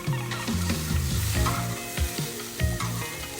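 Water added to a hot pan of hilsa fish and eggplant curry, a loud bubbling sizzle with irregular gurgling bursts and stirring clatter, heard close with no speech.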